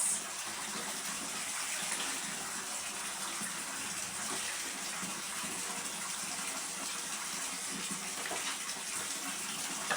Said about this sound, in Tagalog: Yan, ganyan yung tubig kahit buksan mo lang yan dyan.